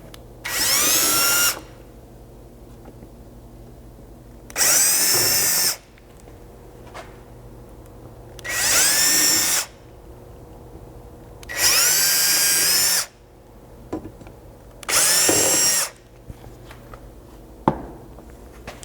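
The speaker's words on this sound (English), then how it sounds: "just come through and drill out all 6 of these holes" A power drill whirs in five short bursts of a second or so each, drilling pilot holes through a plastic MOLLE panel on a Toyota FJ Cruiser rear hatch, with quiet pauses between, close by and loud.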